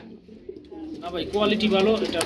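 Low, throaty pigeon cooing repeats close by, mixed with rustling and other birds under a busy, noisy background.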